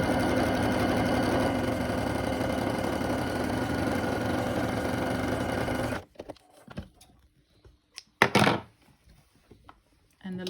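A sewing machine stitches a seam on a homemade cast cover, a loud steady mechanical whir for about six seconds, then stops, followed by a few quieter handling clicks and knocks.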